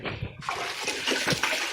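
A wet slap of red mud plaster hits the wall of a mountain mud house, followed by watery smearing and splattering sounds, close and fairly loud.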